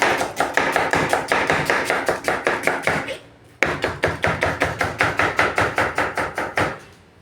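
A knife chops onion finely on a board in quick, steady taps, two bursts of rapid rhythmic strikes separated by a brief pause, close and fairly loud.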